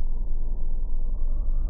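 Low, steady engine rumble of a car driving in the horror video game Mimic Search, a continuous droning hum with no talk over it.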